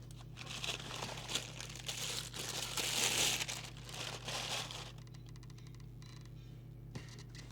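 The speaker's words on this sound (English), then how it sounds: "Oh, it's like nasty, rattly cellophane." Rattly cellophane wrapping on a Team MX10 CB radio crinkles and crackles up close in busy bursts for several seconds, then thins out into lighter rustles and a final tap.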